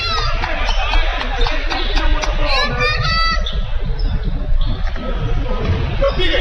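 A crowd at a college men's basketball game between Coffeyville and Garden City in Nellis Hall fills the gym with steady babble and noise. A commentator talks over the crowd.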